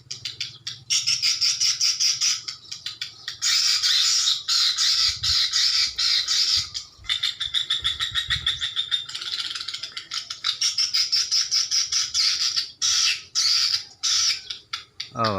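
Swiftlets calling around an unfinished swiftlet house in Aceh Jaya, loud dense chirping and twittering that goes on almost without a break, near and layered with many birds.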